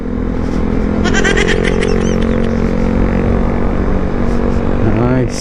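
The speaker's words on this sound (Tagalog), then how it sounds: "Nakakapanibago, nakasakay na muli sa motorsiklo." Steady loud engine drone of a Honda Giorno 125 scooter on the move in Cavite, with wind rush and a brief higher whine near the end.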